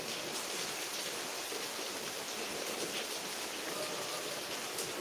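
Heavy rain pours down in a dense, unbroken hiss, steady and loud throughout with no pauses or voices.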